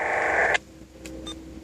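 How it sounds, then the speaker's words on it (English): A brief burst of buzzy electronic noise from an encrypted channel on a radio scanner, with a steady tone, cutting off abruptly, followed by faint static and a few short chirps. "that noise you just heard right there, that little, I'd say like electronic noise, that is an encrypted channel."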